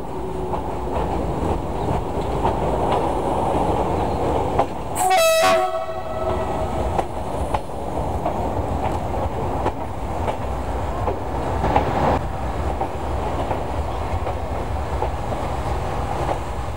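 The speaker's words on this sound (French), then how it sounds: "C'est maintenant une Z2 qui vient à côté de notre Picasso au quai numéro 1." A Swiss Z2 train pulls into platform 1 at a station beside a Picasso X-3800 railcar, with steady rumbling rail noise throughout and a loud, brief horn blast partway through.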